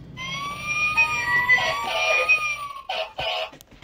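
An ambulance siren wails in rising and falling tones for a few seconds, followed by two short, sharp bursts.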